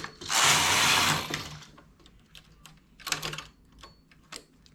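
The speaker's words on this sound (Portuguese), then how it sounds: "Transportando agora 5 pontos" A knitting machine carriage transferring five stitches for a lace pattern gives a loud, close rasping slide lasting about a second, followed by scattered sharp mechanical clicks and a second, shorter clatter.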